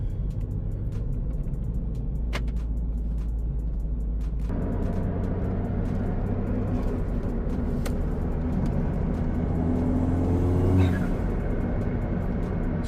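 A used Ford Fiesta ST engine runs steadily as it moves through the gears, with a low, continuous drone and small pitch changes at each shift, close and fairly loud throughout.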